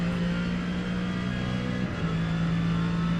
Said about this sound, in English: This car does sound epic.